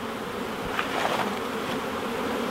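Honey bees buzz steadily around a hive during a nuc installation, a close, dense, continuous drone of many wings with slight swells in intensity.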